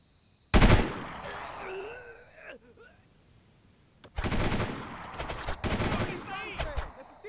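Delta Force 2 video game gunfire during a night raid: a single loud gunshot rings out, followed after a pause by a rapid burst of automatic gunfire with several sharp cracks and echoing tails.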